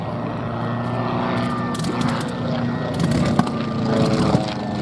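A propeller aircraft flies past at the Duxford VE Day anniversary air show, its engine a steady, fairly loud drone that swells slightly as it passes, heard alone.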